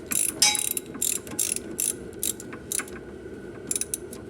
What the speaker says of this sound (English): I'm just tightening them up until